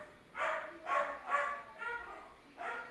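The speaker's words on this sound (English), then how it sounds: "That's my dog's going crazy in another room." A dog barks in another room, five muffled barks with short gaps between them, sounding somewhat distant and indoors.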